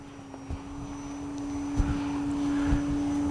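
An FMS 1800mm Ranger RC plane at full throttle gives a steady electric motor drone with a constant tone, fairly close and continuous, with a few faint bumps and no talking.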